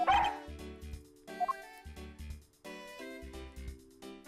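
Missile, the police dog in Ace Attorney Investigations, gives a string of short game-style yips and barks over an upbeat looping musical backing, the barks bright and close in rapid clusters.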